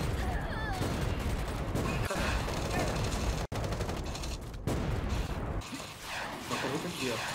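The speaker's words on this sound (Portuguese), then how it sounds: "Na frente, eu já tô atirando." Turret fire rattles in the Project Island video game as a dense, loud barrage of rapid gunshots with a brief dropout midway, under faint voices.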